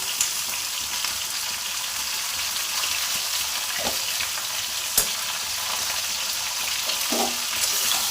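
Food frying in a pan with cumin powder and salt added, giving a steady, close sizzle with a few sharp clinks and scrapes from stirring scattered throughout.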